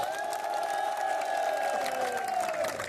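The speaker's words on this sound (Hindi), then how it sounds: "जोर से एक बार तालियां।" Audience applause with crowd noise swells steadily for a few seconds, mixed with cheering and a sustained tonal hum that drifts downward before fading at the end.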